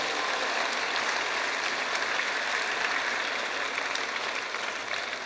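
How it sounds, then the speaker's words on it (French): An audience at a political speech in Strasbourg applauds a guest in the third row, a dense, even patter of many hands clapping steadily from start to finish at a moderate distance. "Je pense qu'on peut l'applaudir."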